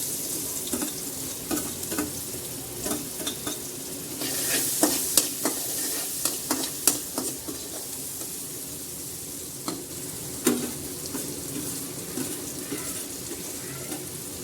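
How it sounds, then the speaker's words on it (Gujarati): Chopped onion and masala spices hit hot oil in a home kitchen pan while cooking Maggi noodles. A soft, continuous sizzle runs beneath sharp metallic clinks and scrapes of a spoon stirring, with a louder flurry of stirring midway. "પછી ડુંગળી મસાલો નાખી દેવાનો"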